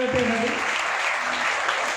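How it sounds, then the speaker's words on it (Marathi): Applause for a top-scoring pupil at an SSC results celebration at a Maharashtra coaching class in Barshi, a steady broadband wash of clapping for two seconds with a brief voice at the start. "जोरदार टाळ्या वाजवण्यासाठी."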